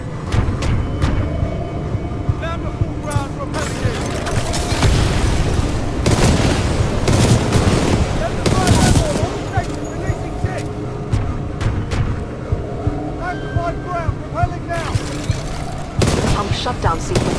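Heavy gunfire and booming blasts in Titanfall 2, a dense continuous barrage with loud peaks, mixed with game voices talking.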